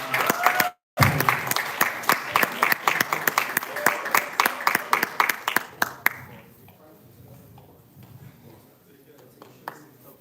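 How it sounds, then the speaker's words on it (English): A round of applause at a live performance event, dense clapping from a crowd for the first six seconds that thins out and fades into scattered claps and room murmur. "We'll just give a round of applause for Sam for his work with you"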